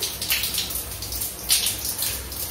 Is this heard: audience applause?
no